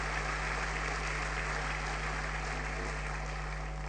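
Steady applause from a church congregation during a sermon, a dense even wash of clapping with a constant low hum underneath and no voices.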